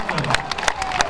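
An audience applauds at an award ceremony for an international children's sports tournament in Drobeta-Turnu Severin, giving steady, dense clapping mixed with crowd noise and faint cheering.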